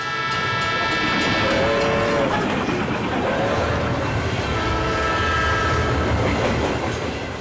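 Mumbai Jaipur Express passenger train rolling out of the station, steady loud rumble and clatter of wheels on rails with a few short horn toots, muffled voices faintly underneath.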